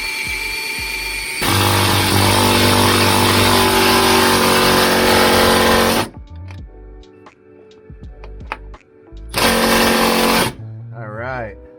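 Power tool whirs loudly in bursts while riv nuts are installed in a Toyota TE72 Corolla, two long runs separated by clicks, taps and quieter handling noises.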